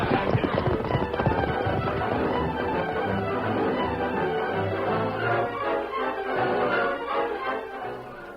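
Horses' hooves clopping in a steady galloping rhythm for a radio drama sound effect, loud and continuous, with voices and background music mixed underneath.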